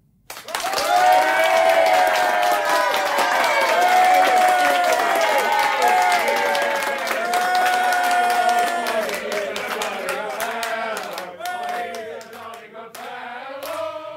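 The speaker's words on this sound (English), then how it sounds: "A dense crowd of cheering students surged round us." A crowd of students in a radio drama claps and cheers in a long, loud swell of applause. Voices and shouts are mixed into the roar, which slowly thins out toward the end.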